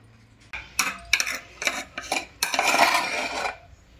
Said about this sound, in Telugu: ఇప్పుడు అన్నీ ఒకదాని అంటే ఒకటేసి కలుపుకుందాం